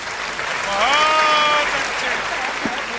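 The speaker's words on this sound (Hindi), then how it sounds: "एक बार जोरदार ताली बजा दो यार" Loud applause from an audience at a Hindi kavi sammelan poetry gathering in Etawah, steady clapping filling the whole clip while a voice speaks briefly over it.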